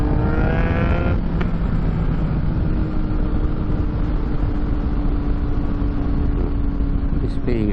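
Yamaha MT-09 motorcycle engine holding cruising speed around 5,000–6,000 RPM, a steady, loud droning hum with constant road and wind rush throughout, picked up close by a recorder on the back of the bike.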